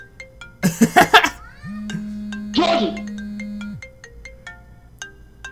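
A phone ringtone plays in a Call of Duty WW2 voice chat, a steady electronic tone with repeating higher chimes, following excited shouting and laughter, with a voice talking over it.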